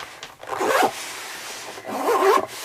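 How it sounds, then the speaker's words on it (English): Two zipping strokes close a case holding colouring books, each a rasping pull of about half a second, near and distinct with a short pause between them. "And that zips up beautifully."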